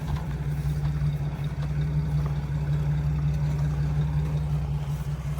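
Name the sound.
car motor running but stuck, wheel dragging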